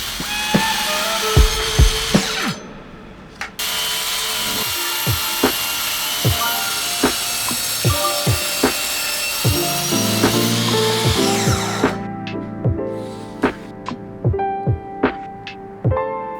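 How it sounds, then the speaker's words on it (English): Power saw cutting a single-piece wooden table slab to length, a loud sustained whine with repeated sharp knocks, a brief pause near the start and a quieter stretch of taps toward the end. "Next I cut the slab to its final length."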